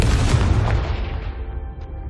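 Confringo fire spell exploding against candelabras in the video game Hogwarts Legacy: one deep, booming blast with a rumbling tail that fades out over about two seconds, loud and alone.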